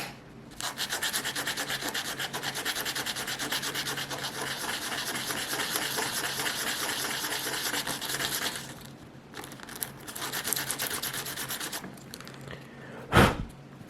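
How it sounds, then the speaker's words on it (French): A power sander runs on a workpiece in a workshop, a continuous buzzing grind for several seconds that pauses, resumes in shorter passes, and ends with a brief sharp knock. "Peut-être un coup de ponceuse."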